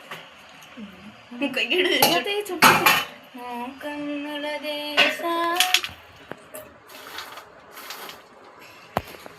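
Dishes, pots and cutlery clatter during washing up, with bursts of metallic clanks and ringing scrapes close by, then quieter sporadic knocks, while a voice talks at times.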